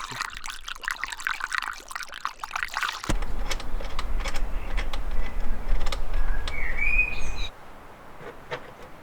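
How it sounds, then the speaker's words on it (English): Coolant pours into a BMW E36's cooling system as a close, steady gurgling stream that stops abruptly near the end, with faint bird chirps in the background. "put in new coolant, bleed out the old one, get rid of the old one"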